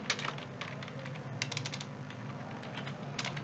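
C++ code being typed on a computer keyboard, a close, continuous run of quick key clicks with small bursts and brief pauses, steady and fairly loud throughout.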